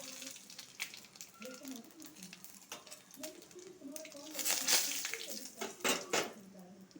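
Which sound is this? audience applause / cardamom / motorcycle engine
cardamom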